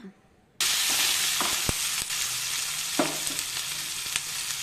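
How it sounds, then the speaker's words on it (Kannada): Boiled, drained field beans (avarekalu) hit a pan with capsicum and burst into a loud, steady sizzle, dotted with occasional spatula clicks and scrapes, heard close and without speech. "ಈಗ ಬೇಯಿಸಿ ಬಸಿದ ಅವರೆಕಾಳು ಹಾಕೋಣ, ಸ್ವಲ್ಪ ಫ್ರೈ ಮಾಡೋಣ"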